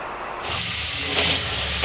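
Green peas are tipped into a pan of spices already frying in oil, and a sudden loud hiss of sizzling bursts up and then holds steady for a moment. No one talks.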